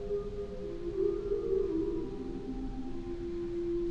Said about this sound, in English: Flute harmonique.